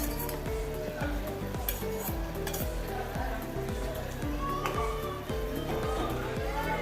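Pieces of wild lemon dropped into a simmering coconut masala curry, a steady bubbling sizzle with light clinks and stirring from a pot, all beneath a constant rhythmic low thumping and faint background voices.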